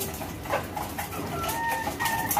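Racing pigeons from a club training flock coo in short soft bursts, a few overlapping calls over a steady outdoor background with no talking.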